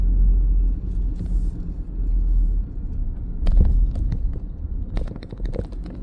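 Low, close rumble of a 2016 Ford Ranger 3.2 TDCi Wildtrak 4WD pickup with a six-speed manual rolling over a speed bump, with a couple of brief thumps and rattles from the suspension over steady road noise.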